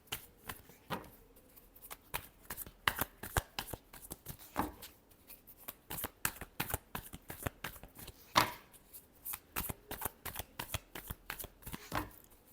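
Tarot cards shuffled by hand in a steady run of crisp riffling slaps and flutters, close and fairly quiet, with no talking over them.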